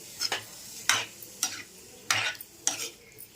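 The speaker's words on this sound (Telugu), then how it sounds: "కొద్దిగా ఇవి వాటర్ అంతా ఇంకిపోయే వరకు వేయించుకోవాలండి" Prawns stirred and fried in a pan with turmeric, chilli powder and salt, with several distinct scraping stir strokes at uneven intervals over a faint background sizzle.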